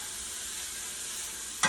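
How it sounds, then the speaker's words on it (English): Peppers fry in a pan with a steady, close sizzle, ending in a sharp clatter. "So peppers are frying up."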